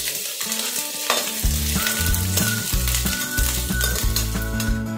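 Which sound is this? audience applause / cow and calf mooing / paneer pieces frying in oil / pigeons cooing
paneer pieces frying in oil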